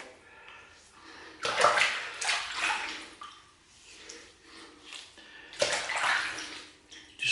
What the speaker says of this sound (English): Rinse it off my hands.